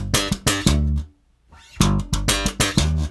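Slap bass plays a riff of octaves, thumbed thumps and popped notes in a punchy syncopated rhythm, loud and close, with a short silent gap in the middle before the pattern resumes.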